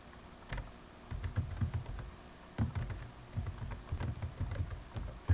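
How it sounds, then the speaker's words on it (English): Typing on a computer keyboard, with quiet, close, irregular key clicks in quick bursts and a few heavier keystrokes standing out. "I'm just going to type that in."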